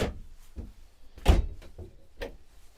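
A cabinet door in a 2025 Jay Flight SLX 160LK camper swings and shuts with a solid thump, surrounded by a few lighter clicks and knocks of nearby doors, close and clear.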